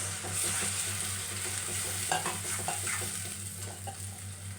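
Fried onion and freshly blended spices sizzle in a pan while making a Rita fish curry, a dense, close crackling hiss with scattered stirring scrapes and a low steady hum beneath.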